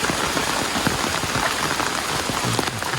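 Steady, dense rain falls over hilly farmland with coconut palms, a continuous close hiss of drops on foliage and ground with no voices.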